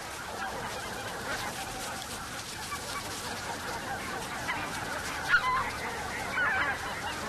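A flock of geese in a snowy winter landscape honks steadily at a distance, many overlapping calls forming a continuous noisy chorus.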